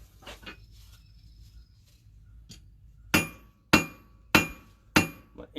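Hammer strikes ringing on a blacksmith's cool anvil, five sharp metallic blows at an even pace, each with a bright ringing decay, after quieter handling clatter.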